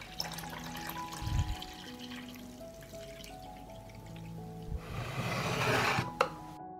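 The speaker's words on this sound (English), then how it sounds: "I pour water into the pot up to the height of the lid." Water poured into a pot holding glass jars set on a cloth, rising to a loud splashing pour near the end after quieter handling sounds earlier; no talking.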